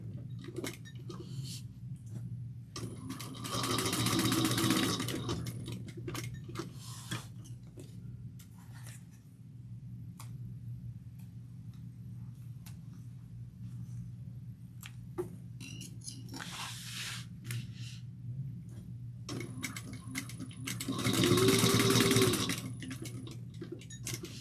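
A sewing machine runs basting stitches along the lining pocket of a fabric tote bag, in a few steady whirring bursts separated by quieter pauses.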